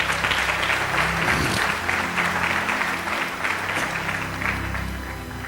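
A church congregation applauds steadily for several seconds as a dense, even wash of clapping that eases slightly toward the end, with a low hum running underneath.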